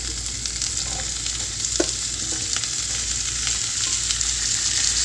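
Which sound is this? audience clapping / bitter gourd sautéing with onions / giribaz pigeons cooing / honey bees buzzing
bitter gourd sautéing with onions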